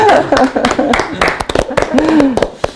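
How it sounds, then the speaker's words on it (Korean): Scattered claps from an audience honoring two artists at a Korean art talk event ring out in sharp, uneven bursts beneath ongoing speech, never building into full applause. "두분 선생님께 박수 쳐주세요"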